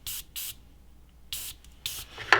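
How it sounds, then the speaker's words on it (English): An airbrush spraying paint onto a 1/48 scale Revell Rafale M model kit: four short bursts of close, bright hiss separated by quiet gaps, ending in a faint sputter. "Okay, so we've got enough to spray."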